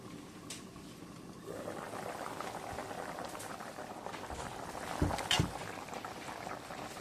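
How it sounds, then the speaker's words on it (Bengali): Pangas fish curry bubbling in a pot on the stove, a continuous soft simmering hiss with small pops, growing slightly busier partway through and with a couple of louder bursts near the end. "তরকারিটা ফুটতে শুরু করছে"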